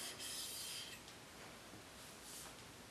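A Hock shoulder plane blade being honed on a sharpening stone under firm finger pressure gives a faint, close, continuous grinding rub with slow back-and-forth swells.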